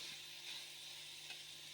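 Chicken and vegetables fry in a pan with chili sauce and soy sauce for a kabab filling, a steady close sizzle with light stirring, no voices.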